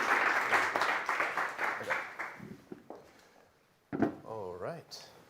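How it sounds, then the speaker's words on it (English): An audience gives a round of applause at the DEPT Growth Week business event in Berlin, a dense clatter of clapping that fades out over several seconds, followed by a short burst of talking and noise. "Round of applause for everyone, please."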